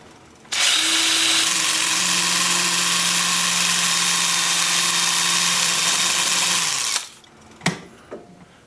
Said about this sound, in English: I can also sand in reverse just by sanding on this side.